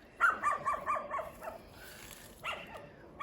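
A dog barks several times in a quick run, then pauses and barks again, moderately near with a quiet background between the barks.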